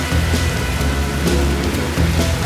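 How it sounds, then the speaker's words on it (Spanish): Steady rain falls during a storm that has lasted weeks, a dense, even patter and hiss close by with no pauses. "Llueve todo el tiempo, ha llovido así por semanas."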